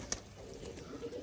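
A male pigeon at a Rajshahi pigeon loft gives a single soft, faint coo over quiet background noise.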